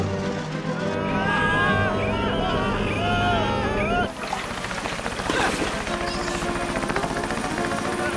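A cartoon helicopter whirs loudly and steadily throughout, under overlapping music and raised voices, with a brief dip in level around the middle before the rotor noise continues.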